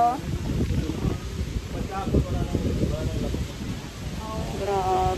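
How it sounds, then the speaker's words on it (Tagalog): Strong wind buffets the microphone in rough gusts in Antipolo, Philippines, with a voice exclaiming and talking intermittently over the roar. "tignan mo ang lakas ng hangin niya dito"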